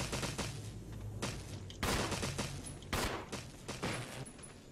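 Gunfire in the Resident Evil HD Remaster video game: a few sharp shots cutting through a rumbling, noisy background, spread across a few seconds.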